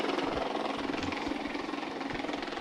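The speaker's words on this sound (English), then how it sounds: "And as you can see, the helicopter taking off there." A helicopter lifts off at a freeride skiing competition in the Kitzbühel Alps at Fieberbrunn, its rotor and engine making a steady, fairly loud broadband roar with a low thudding pulse throughout, no voices.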